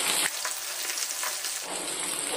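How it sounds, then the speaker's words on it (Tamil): Steady oil sizzle as small onions (shallots) sauté for a Kerala-style fish curry, a dense crackling hiss that runs continuously at close range with no talking. "சின்ன வெங்காயத்தை எண்ணெயில் வதக்கிக்குவோம்."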